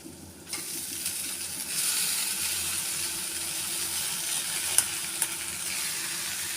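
Sago pearls for khichdi, being made with dry fruits, sizzle steadily in a hot pan while being stirred, with a constant hiss and a couple of small clinks from the utensil.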